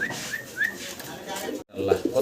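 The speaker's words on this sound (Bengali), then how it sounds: "সিলভার কালারের এক জোড়া লাভরি কবুতর দেখাচ্ছি আপনাদেরকে" Pair of silver lavri pigeons, fancy pigeons kept at home, giving a few soft rising coos over background noise and someone talking.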